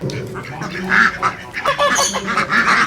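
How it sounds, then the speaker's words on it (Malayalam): Exotic foreign duck breeds on a mixed farm honk and quack in loud overlapping bursts close by, with brief human voices mixed among the birds. "ഒരുപാട് വിദേശ ഇനം താറാവുകൾ ഡക്കുകളൊക്കെ ഉള്ള ഒരു ഫാമാണ് ഇവിടെ"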